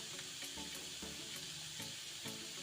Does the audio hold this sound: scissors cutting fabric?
no